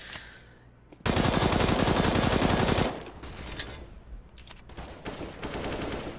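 Automatic rifle fire in a CS:GO match on the map Cache, one loud sustained burst of rapid shots lasting nearly two seconds, followed by scattered quieter shots and distant rattling over a continuous game background.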